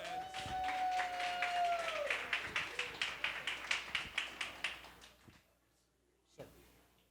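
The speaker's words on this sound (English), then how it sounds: "Let's give her a round of applause, Miss Bonita Owens" An audience at a soul food restaurant claps for a spoken word performer. A voice carries over the start, then the clapping settles into a steady, fairly even rhythm that dies away after a few seconds.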